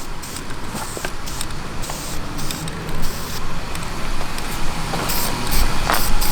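Spray can base-coating turbo kart engine parts purple, a steady close hiss with short pulsed bursts and faint background noise, with no voices.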